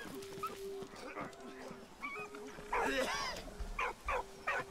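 A dog in the Valiant Hearts: The Great War game whimpers and yelps in short, high rising cries over a low ambient drone, and a voice speaks earlier in the clip.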